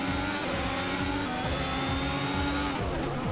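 Formula 1 race cars in a video game, set on an alternative Greek circuit, roar continuously with layered engine whines shifting pitch as several cars pass and jostle closely, loud and steady throughout.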